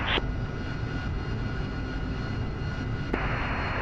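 A VTOL aircraft's engine in a video game, taking off from a ship's flight line as a steady, loud, droning roar that holds evenly throughout.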